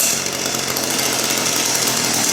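A petrol Husqvarna hedge trimmer runs with a steady, loud, buzzing two-stroke engine drone right after starting, close by and alone without any talk.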